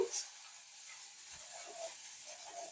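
Soft, steady sizzling of amaranth greens frying in a pan, with faint scraping from a utensil now and then.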